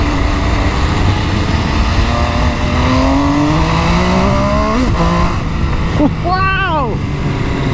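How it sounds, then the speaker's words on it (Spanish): A 2018 MV Agusta Dragster 800RR motorcycle engine revs and climbs in pitch, accelerating with rising whine, then eases and revs again in short bursts, loud and close. "ni siquiera le he acelerado a lo que da la moto"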